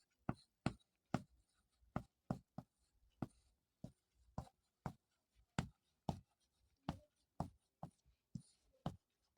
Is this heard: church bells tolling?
no